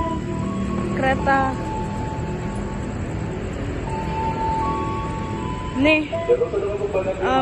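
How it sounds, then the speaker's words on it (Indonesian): A train rumbles steadily past at Klender station in Jakarta, with a continuous low rolling drone, brief tonal squeals or horn-like tones, and people talking briefly near the end. "Setelah KRL berangkat, ada kereta lagi."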